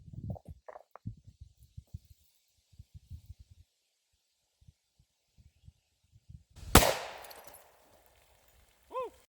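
A single loud, sharp 10mm hardcast gunshot fired outdoors into water jugs, following quiet wind noise and small thumps, with a brief whistle-like sound near the end.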